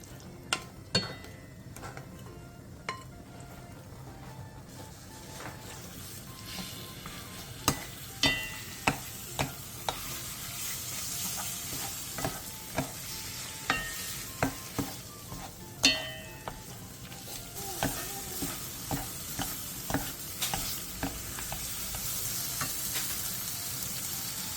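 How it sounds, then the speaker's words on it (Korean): Marinated meat sizzles in a spoonful of sesame oil in a pot over high heat, a steady close frying hiss broken by repeated clinks and scrapes of stirring throughout. "냄비에 참기름 1스푼을 두른 뒤 재워놓은 고기를 넣고 센 불에서 볶아주세요."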